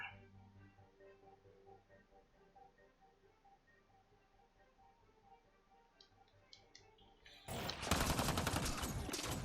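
Rapid automatic gunfire erupts near the end in the video game Mass Effect: Andromeda, a loud burst following a low ambient hum and a few soft electronic blips.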